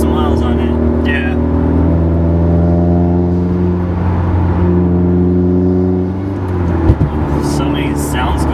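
A modded stage 2 Subaru WRX engine holds a loud, steady droning rev heard from inside the car, then eases off near the end with a brief click, while people talk over it.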